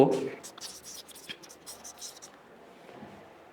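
Marker or chalk scratching across a board during a database lecture, a few short strokes at close range with faint breathy room sound and no clear talk.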